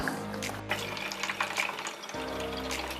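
Water running into a bottle being filled for a steam generator, a steady close splashing stream with gurgling and a brief dip near the end, no talk over it.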